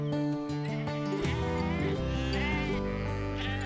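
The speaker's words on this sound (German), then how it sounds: "Der straffe Marsch hat die Wehen bei diesem Schaf ausgelöst." Sheep bleat repeatedly on an open pasture during lambing, several overlapping calls near and loud, with a dense, busy flock sound throughout.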